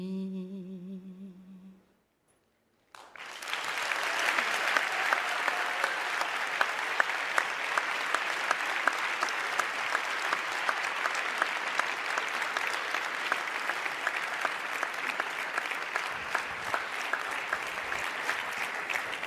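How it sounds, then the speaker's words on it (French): After a brief tonal sound and a moment of silence, an audience at a corporate event breaks into loud, sustained applause that continues steadily for over fifteen seconds, dense with clapping and occasional sharper claps. "On applaudit Annabelle Monet."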